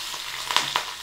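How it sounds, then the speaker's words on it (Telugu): A brief tempering of dried red chillies and curry leaves frying in oil, giving a soft, steady sizzle with a couple of sharper crackles, close and moderately quiet, with no voices. "ఇవన్నీ వేసి 1 నిమిషం ఫ్రై చేసి స్టవ్ ఆఫ్ చేసేసేయండి"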